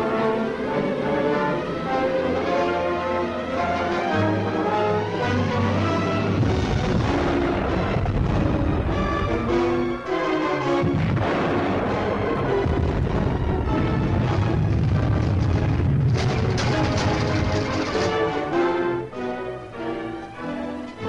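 Torpedoes fired from a WWII submarine in a 1958 film: sustained loud, dense rumbling booms and blasts layered with dramatic orchestral score, continuous and heavy throughout without a break.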